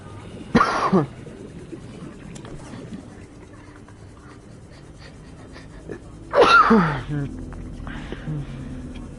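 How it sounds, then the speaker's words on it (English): A person gives two abrupt cough-sneeze bursts several seconds apart, close and fairly loud, over a quiet background of faint game sounds. "That was a weird cough, sneeze thing."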